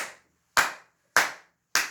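Three sharp, evenly spaced hand claps, each ringing briefly before fading into silence, marking steady beats at close range with no voices.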